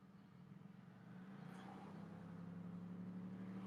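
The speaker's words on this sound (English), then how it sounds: "And with all the road noise," Steady low road noise inside a moving car driving from West Akron toward Cleveland, a constant drone and hum that grows slightly louder and then holds even.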